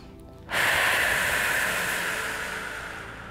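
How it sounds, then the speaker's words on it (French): Deep Ujjayi breathing during a gentle yoga practice for the joints: a single long, steady hissing breath that starts abruptly and slowly fades, close and alone with no talk. "On va prendre quelques grandes respirations ici."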